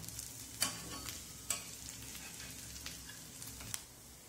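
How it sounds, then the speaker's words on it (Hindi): Potato tikki (aloo tikki) frying in oil in a pan, giving a soft steady sizzle with a few sharp crackles and light spatula scrapes, fairly faint and close, with no talking. "दोनों साइड से हमारी आलू टिक्की बहुत ही अच्छी तरीके से फ्राई हो गई है"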